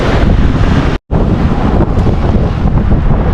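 Loud, constant strong wind buffets the microphone on an overnight fishing trip at sea, a roaring rush broken by a brief dropout, with a faint sense of open water beneath.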